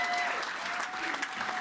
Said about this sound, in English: Let's have a huge round of applause for all of those graduates